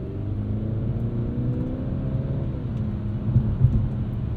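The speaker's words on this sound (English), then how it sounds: "Two-liter turbo is pretty quiet, but it's not grainy, which is nice." A 2022 Mercedes-Benz C 300 with a two-liter turbo engine driving on snow tires, giving a steady, fairly quiet low engine hum and road rumble with a slight swell near the end.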